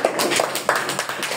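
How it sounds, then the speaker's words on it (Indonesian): A classroom gives a short burst of applause for a student, scattered hand claps from several people, brief and moderately close. "tepuk tangan"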